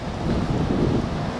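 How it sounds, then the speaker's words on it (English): Steady, broadband wind rushing past the microphone in Perth, Australia, a constant low roar with slight gusting and no voices. "Ooh, windy though, as you come out this way."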